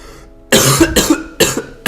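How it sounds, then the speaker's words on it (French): A person who says they are sick coughs, with harsh bursts that come close and loud after a brief quiet start, and a third burst follows near the end. "Alors je te tousse dessus et t'as la grippe"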